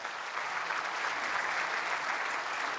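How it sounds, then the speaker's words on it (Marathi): Steady applause from a lecture audience rolls on evenly, a continuous wash of many hands clapping at a moderate distance with no voices over it. "एकदा त्यांच्यासाठी आपण टाळ्या वाजवू"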